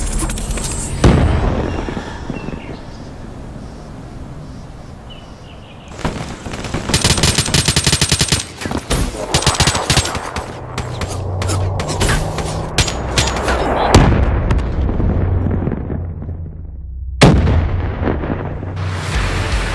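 Artillery fire in a military video game: bursts of booming blasts and rapid crackling volleys come in clusters between quieter stretches, loud and close, with no voices.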